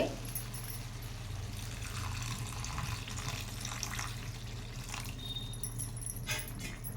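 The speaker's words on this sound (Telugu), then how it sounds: "ఇలాంటప్పుడు మనం వాటర్ యాడ్ చేసుకోవాలి" Water is poured into a pan of curry whose pieces have cooked down in oil, making a steady, soft splashing wash over a low kitchen hum, with a few faint clinks.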